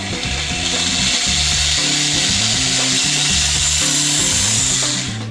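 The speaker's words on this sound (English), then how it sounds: "Drill a hole straight through." A power drill bores straight through a small mini potato over a sink, giving a loud, steady, grinding whine with a wavering tone that runs for about five seconds.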